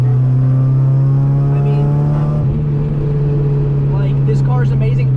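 A Mazda NA Miata on the highway, approaching an exit, gives a loud, close engine drone with a strong held tone that shifts slightly as it revs. Someone speaks briefly over it.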